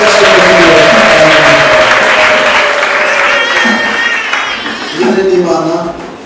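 A church congregation in Rwanda claps loudly in praise during a worship service, a dense, sustained wash of hands that tapers slightly, with singing or voices on top and a brief swell near the end.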